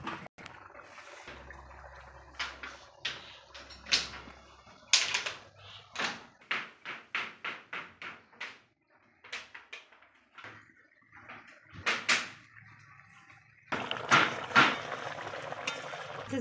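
Pieces of silver carp dropped into a simmering Bengali fish curry in a pan, a run of sharp clattering knocks and sizzles in uneven rhythm, then steady bubbling frying noise near the end, with someone talking at times.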